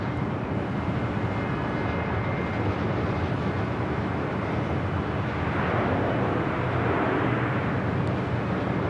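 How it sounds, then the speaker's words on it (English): An Air China Cargo Boeing 777 freighter lands on runway 25 left at LAX, making a loud, steady jet roar that swells slightly toward the end, with no voices over it. "Also just had a 777 freighter just touching down 25 left, Air China cargo."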